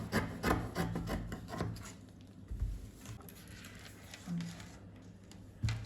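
Scissors cut through a paper dress bodice pattern with quick, close rustling snips and soft scraping against a tabletop, pausing briefly between strokes.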